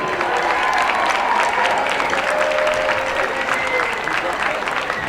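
A crowd at a high school homecoming football game applauds the Hall of Fame class, a steady wash of clapping with faint cheering voices mixed in throughout.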